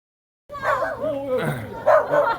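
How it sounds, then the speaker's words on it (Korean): A dog barks and yips at a restaurant entrance, with short excited barks close by, mixed in with people talking over them. "강아지 있네"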